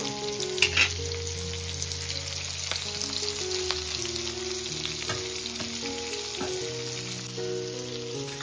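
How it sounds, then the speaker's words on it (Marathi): Fish fries in hot oil with a steady, close sizzle and soft crackling throughout, broken by a few light utensil taps and stirring sounds. "चला मच्छी मस्त तेलामध्ये रसली मस्त"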